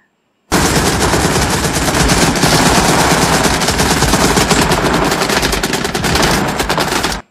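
Rapid, loud machine-gun fire from a battle scene in the movie Full Metal Jacket, with dense bursts of shots that run almost nonstop for about seven seconds.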